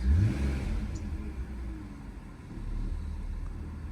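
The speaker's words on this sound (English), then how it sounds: "And it's revving very smoothly." A 2004 BMW 325ci E46 engine revs smoothly, a low rumbling engine note that swells at the start and again later, heard up close with no talk.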